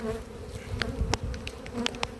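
Bees hum steadily around hives kept close to houses, a continuous low buzz with a few sharper individual passes.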